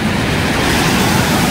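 Waves roll onto a beach at a campsite in La Union in a steady, loud surf wash with gusty wind buffeting the microphone. The broadband rush is continuous and close, with no talk over it.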